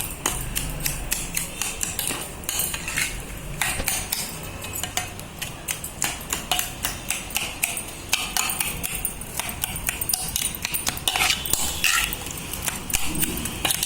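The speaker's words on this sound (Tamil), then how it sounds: "இது ஜூஸியாக வரணும்னா நம்ம வந்து இந்த மாதிரி நல்லா மசிச்சுக்கிட்டோம்" Fruit being mashed with about three spoons of sugar in a bowl: a steady run of close metallic clinks and taps, the spoon or masher hitting the bowl in quick, uneven strokes.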